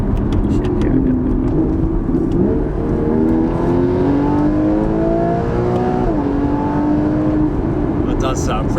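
Porsche 981 Cayman S flat-six pulls hard in Sports Plus mode, revs climbing steadily through the gears from inside the cabin while occupants talk over the engine.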